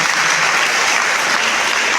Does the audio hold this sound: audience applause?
yes